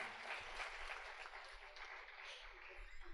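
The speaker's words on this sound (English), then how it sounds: "yes, you can clap, no problem." An audience at a lecture on Advaita Vedanta claps in steady, even applause that continues throughout at a moderate distance.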